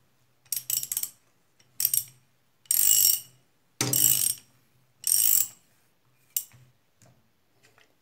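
Ratchet wrench with a 17 mm socket tightening a bolt on a Bajaj Pulsar motorcycle: a series of loud, close, dry clicking bursts in short, evenly spaced strokes separated by brief pauses.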